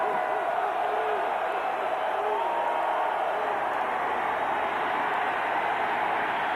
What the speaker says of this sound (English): the crowd tries to get into it for Vanderbilt